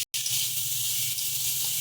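Chopped tomato dropped into a hot pan of oil, sizzling and hissing steadily and close up after a brief quiet gap at the start, as a Bengali dish of kochur loti with dried fish is cooked.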